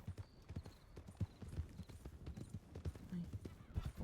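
Horse hooves clip-clop in a quick, uneven rhythm while riding in a video game, soft and close, with someone talking quietly over the steady footfalls.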